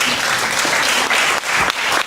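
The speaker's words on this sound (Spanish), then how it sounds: "¿Por qué no le das un aplauso a Dios por ello?" A church congregation bursts into dense, loud applause, continuous clapping from many hands filling the whole short stretch with little else audible.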